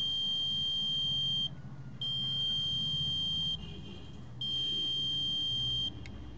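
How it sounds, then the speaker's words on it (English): A high electronic buzzer tone from a single-transistor water alarm sounds in three long bursts separated by short gaps, loud and steady, with a low rumble of background noise underneath. "at the same time the buzzer is also making a sound."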